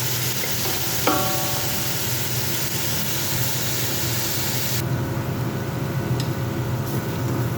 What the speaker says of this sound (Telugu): ఒక అరగంట నానబెట్టుకున్న చికెన్ ఉంది కదా, ఆ చికెన్ ఇందులో వేస్తాను